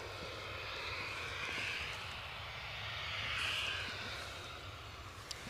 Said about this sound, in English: We have on final approach, what do we have? An EasyJet from Bristol, a 320 Neo, 6 years of age.